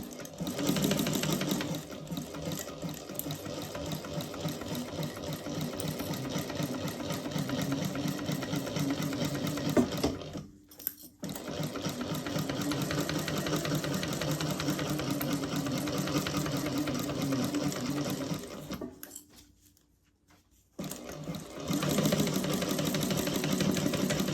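A sewing machine stitches steadily at close range with a fast, even mechanical whir, stopping briefly twice before starting again, with no talk.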